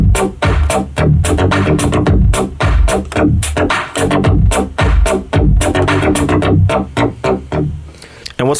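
Kick, snare, hi-hat and bass line sequenced on a Toraiz with a Squid sequencer, a loud driving steady beat with punchy low kicks, crisp snares and hats over a repeating bass line.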